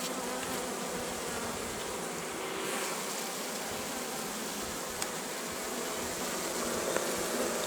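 An autumn honeybee swarm with young queens, a dense continuous buzzing hum from many bees, steady and enveloping throughout, with no talking.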